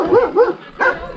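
Dogs at a rural Romanian village near a hilltop fortress ruin, giving three sharp, close barks: two in quick succession, then a third after a short pause.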